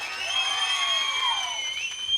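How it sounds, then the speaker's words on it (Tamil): A crowd cheers and shouts steadily for a young man named Manikandan at a Tamil stage event, a continuous wash of voices and whoops held for a couple of seconds. "மணிகண்டனுக்கு ஒரு கைதட்டு கொடுக்கலாம்."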